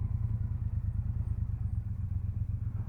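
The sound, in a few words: Triumph Bobber Black motorcycle engine while riding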